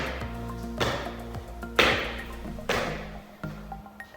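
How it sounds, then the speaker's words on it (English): Heavy feet stamp down on a hard floor in a slow, steady rhythm, five loud thuds with pauses between them, close by. "you shouldn't be making a noise with your feet, so don't stamp"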